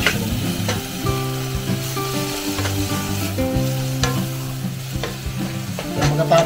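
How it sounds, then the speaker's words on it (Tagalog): Mushrooms sautéing in a pan, a close, continuous sizzle with scraping stirring strokes and occasional clinks, over a low tonal background hum. "So parang igigisa lang natin itong ano, itong mushroom natin para maluto talaga siya ng maayos yung mushroom."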